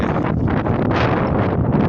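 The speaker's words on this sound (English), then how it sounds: "It's very windy." Strong wind blasts across the microphone on an outdoor country walk, a dense, loud, low roar that rumbles constantly with slight gusty swells and no voices.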